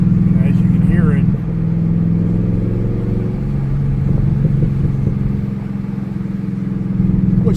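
A Chevrolet Camaro Z28 track car's engine hums and rises and falls steadily while driving on a road, heard beneath continuous close talking by a man in the car.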